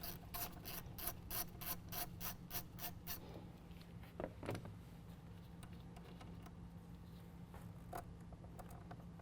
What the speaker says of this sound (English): disconnect the negative battery terminal. You can use a 13mm to do that.